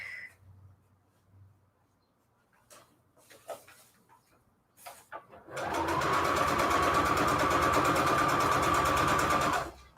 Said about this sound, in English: I'm just sewing